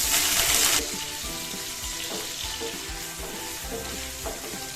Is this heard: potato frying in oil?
yes